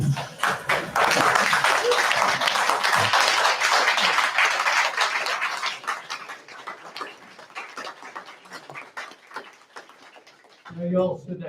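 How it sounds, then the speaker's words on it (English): An audience in a town hall meeting gives a round of applause, loud dense clapping that gradually thins out and fades, with voices at the end. "give them a tremendous round of applause"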